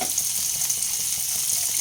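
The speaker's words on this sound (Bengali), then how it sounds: "পেঁয়াজ একটু নরম হয়ে আসা পর্যন্ত ভেজে নিতে হবে খুব বেশি ভাজা যাবে না" Onions and green chillies fry in a pan for methi matar malai, giving a continuous close hiss and crackle of sizzling oil with no talk.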